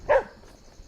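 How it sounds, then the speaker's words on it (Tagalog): A single short dog bark sounds at a moderate distance outdoors on a hike, followed by quiet background. "Nakita ko na yung mga aso."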